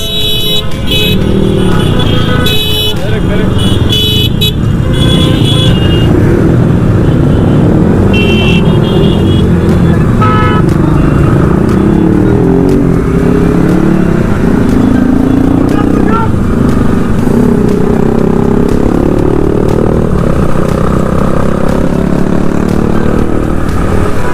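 Suzuki Gixxer SF and many other motorcycle engines roar and drone nearby as the riders travel together in a Victory Day rally, with occasional horn toots and a constant rush of road noise.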